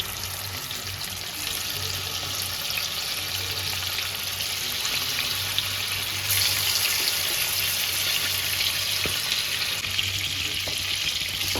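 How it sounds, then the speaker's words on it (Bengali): Chicken pieces fry in butter and white oil in a pan, giving a steady, loud, close sizzle and crackle that runs the whole time with a few faint utensil knocks and no talk. "দিয়ে হালকা করে ভেজে নেবো"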